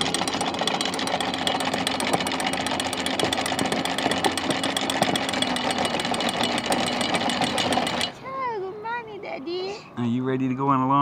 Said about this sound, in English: Turn it on and start bringing in the winch, the anchor.